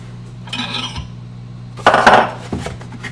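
Braised meat lifted out of its braising liquid in a pot, giving a few metallic clanks and scrapes of utensils against the pot, including a louder clattering burst near the middle, over a steady low kitchen hum.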